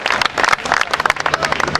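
Crowd applause at a Rally Acropolis 2009 ceremony at Casino Loutraki, dense steady clapping from many hands filling the space, fairly loud and continuous with no voices on top.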